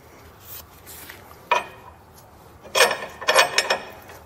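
Longer carriage bolts drop through square holes in a lower plate during an air helper spring install on a 2020 Toyota truck, giving a sharp metallic clink near 1.5 seconds and then a cluster of rattling clatters, close up with no talk.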